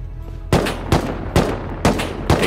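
Gunfire in the survival game Rust, five sharp shots spaced about half a second apart, loud and close over a steady low rumble of game ambience.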